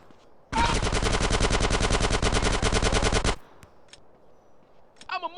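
Gunfire in the video game GTA San Andreas: a loud, rapid burst of automatic fire lasting about three seconds, then a quiet pause with a few faint game sounds.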